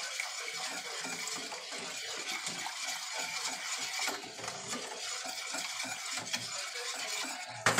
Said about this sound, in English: just going to stir it gently